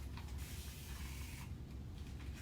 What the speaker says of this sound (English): So I'm going to spray this on my paint and it's going to activate.